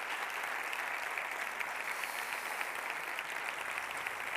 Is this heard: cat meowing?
no